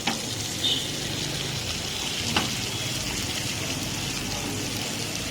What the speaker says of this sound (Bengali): আমরা রসুনটা একটু ভেজে নিলাম